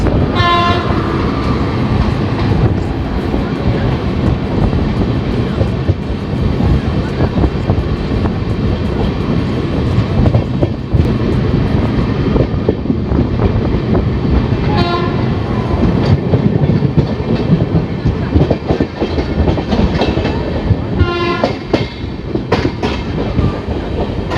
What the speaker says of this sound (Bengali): এখান দিয়ে বেরিয়ে যাচ্ছে 13015 হাওড়া জামালপুর কবিগুরু এক্সপ্রেস